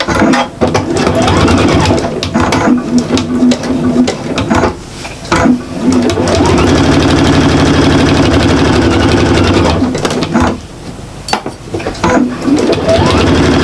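A sewing machine runs in steady continuous bursts while stitching through a bulky foam-lined shopper bag, motor whirring loud and close with short pauses between seams.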